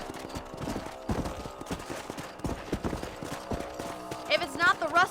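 Galloping horse hooves from the Western video game Red Dead Redemption, a rapid rhythmic clip-clop running steadily throughout, mixed with game ambience and a brief higher-pitched burst near the end.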